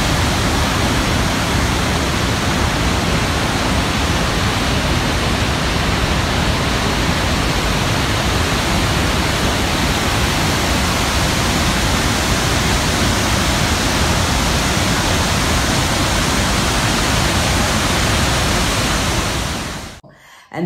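Victoria Falls on the Zimbabwe–Botswana border gives a steady, powerful, broadband roar of plunging water that fills the whole clip unbroken, then cuts off abruptly at the very end.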